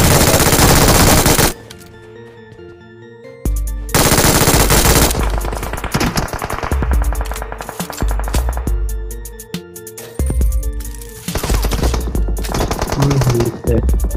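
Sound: gunfire in BGMI (PUBG Mobile) video game

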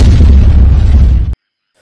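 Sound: explosion in a zombie road apocalypse video game

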